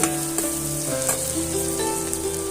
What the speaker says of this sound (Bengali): আগে থেকে যে আলুটা কুচে রেখেছিলাম সেটা আমি তেলের মধ্যে অ্যাড করে দিলাম